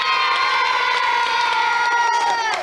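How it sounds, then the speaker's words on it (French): A television studio audience, many of them children, cheering and shrieking for stuntmen on a French kids' show, a loud, sustained, high-pitched roar of voices with some clapping mixed in. "vous pouvez les applaudir"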